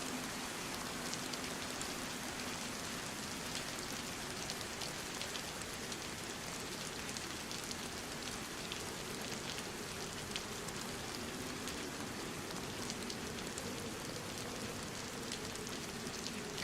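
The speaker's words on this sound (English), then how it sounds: "Could just be that weird noise thing it does when it's raining." Rainfall in the DayZ game world, an unbroken wash of pattering drops that stays uniform and fairly close, with nobody speaking over it.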